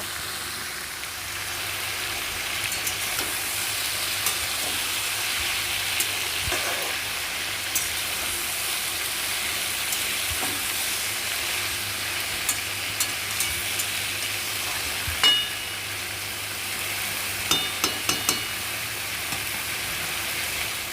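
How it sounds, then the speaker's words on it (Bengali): Ivy gourd (kundri) frying in a covered pan, a loud continuous sizzle that holds steady for the whole stretch, with scattered small pops and occasional light knocks. "এইভাবেই ঢেকে ঢেকে ভাজতে হবে"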